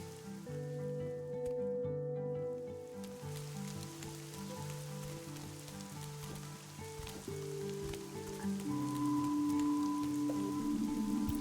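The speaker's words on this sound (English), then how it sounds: "It's just raining" Rain falls steadily in the video game Fall of Porcupine, a soft, continuous patter that runs under gentle tonal music for the whole stretch, with no talking.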